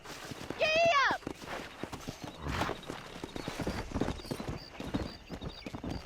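A horse in the video game Red Dead Redemption neighs loudly, then its hooves clip-clop in a quick galloping rhythm, close and clear, with a shouted voice near the start.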